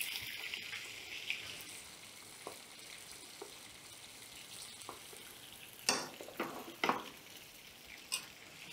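Salmon fries in a pan with a soft, steady sizzle, broken by a few sharper crackles and clatters as the pan is moved in the later seconds.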